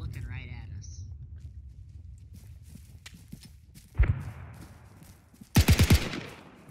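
WWII battle gunfire in the Arma 3 video game sounds as a sharp shot and then a fast burst of loud, close automatic fire, with players talking over the low background rumble.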